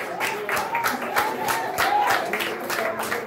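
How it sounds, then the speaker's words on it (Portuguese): A congregation at a Portuguese-language church service claps in a steady rhythm, with voices or singing carrying along underneath the repeated hand claps. "Você pode celebrar o rei com as suas palmas"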